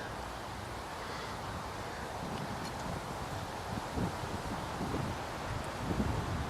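Wind gusts across an outdoor archery range, a soft, steady rushing noise with buffeting against the microphone that builds slightly toward the end, with no voices.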